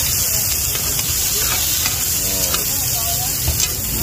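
Food sizzling and being stirred on a hot pan at a night-market street food stall, a loud continuous frying hiss with scraping stir strokes and faint background chatter.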